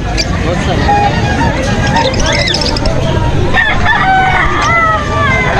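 Roosters crow and fowl cluck amid constant crowd chatter at a busy pet market selling roosters and pigeons, with several crows rising over the noisy babble.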